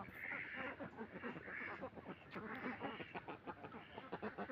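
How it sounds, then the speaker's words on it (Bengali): Ducks quack in a small duck farm, a faint chorus of overlapping nasal calls at a distance with no talk. "এই হচ্ছে আমার ছোট্ট হাঁস খামার"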